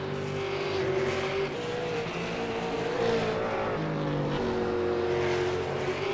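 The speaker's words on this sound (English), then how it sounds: "He's getting this car into some nice power slides through these corners." A V8 Supercar in the iRacing sim power-slides through corners at Oran Park, its engine droning steadily at high revs with rising and falling pitch and a faint tire-scrub hiss, loud and continuous, no talk.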